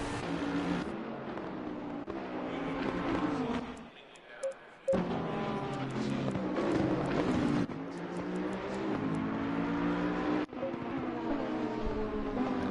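GT3 race cars, including a Bentley and a Mercedes, lapping Zolder in a racing video game, their engines droning continuously beneath a commentator's voice with one brief dip in the noise.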